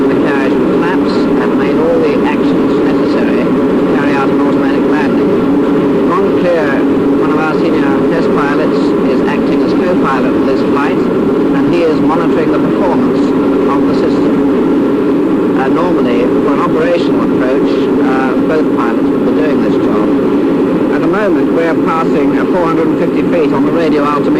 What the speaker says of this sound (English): The autopilot is controlling the aeroplane, the flight path of the aeroplane, and the automatic throttles from the two outboard engines